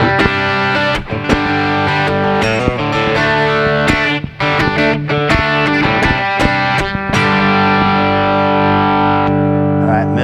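A distorted hollow-body electric guitar on its bridge pickup plays chords and single notes with a bright, biting tone, strummed steadily with short pauses, loud and close.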